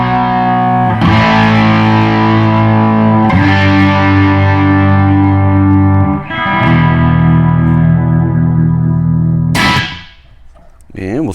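Electric guitar through a Blackstar Dept 10 pedal with the shape knob turned fully right to scoop the mids, three long distorted chords ringing out one after another with reverb tails, loud and close, then a brief pick scrape at the end.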